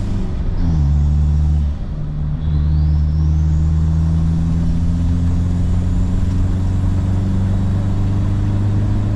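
A car engine at a tuning shop, with a check-engine light fault, drones loud and close with a steady low rumble, then the pitch climbs gently as the accelerator is pressed and holds at a higher, even roar.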